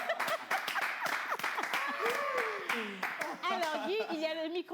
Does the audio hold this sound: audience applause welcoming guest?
yes